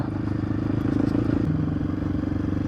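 A KOVi motorcycle out on a ride, its engine a steady low drone with rhythmic pulsing and some road and wind noise, close and continuous without talk.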